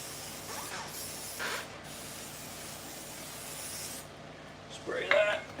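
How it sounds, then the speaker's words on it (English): Silicone spray hissing onto a tire bead in a garage during race car prep, with short broadband bursts early on and a brief louder burst near the end, under a steady background. "I got a little bit of silicone spray and"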